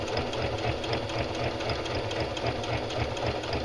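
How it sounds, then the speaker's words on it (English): A sewing machine edge stitching around the casing of pajama pants runs steadily and close throughout, a continuous rapid mechanical whir at even loudness with no talk. "Alright, I'm edge stitching around"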